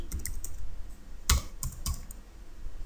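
Keystrokes on a computer keyboard while configuring a Cisco router, a few scattered clicks with one sharper tap near the middle, close and fairly quiet, alone.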